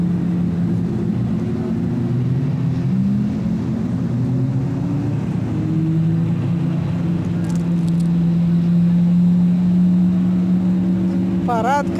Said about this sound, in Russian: Парад красавиц Феррари